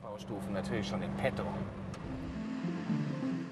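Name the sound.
BMW 1.5-liter engine running loud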